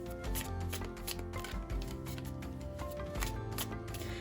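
Tarot cards shuffled by hand on a reading mat, a continuous close riffling and sliding of the deck with soft rhythmic flicks throughout, no talking.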